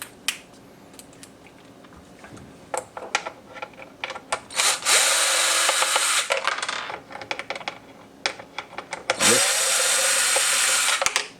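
A power drill backs out Phillips head screws from the factory fender of a 2022 Honda Grom, with two long loud whirring bursts amid close clicks and clatter of small metal parts.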